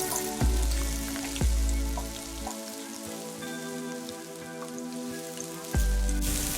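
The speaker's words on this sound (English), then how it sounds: "The onions will take 2 to 3 minutes to fry, so now let's start frying them" Steady crackling sizzle of onions frying in a pan, with a few sharp clanks of a utensil against the pan over the continuous hiss.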